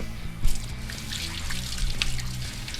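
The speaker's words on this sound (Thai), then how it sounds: "ล้างมือก่อน" Tap water runs steadily into a sink while hands are washed in a home kitchen before frying chicken skin, with a soft continuous splashing and a few louder splatters close by.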